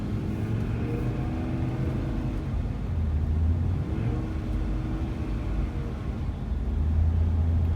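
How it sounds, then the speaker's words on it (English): A Ram SRT10 pickup with a failing transmission accelerates in first gear and shifts into overdrive, giving a steady, loud low engine rumble and drone that changes pitch slightly partway through, heard from inside the cab without talk. "So I gotta kind of get it up to speed in first gear so they can kick in the overdrive."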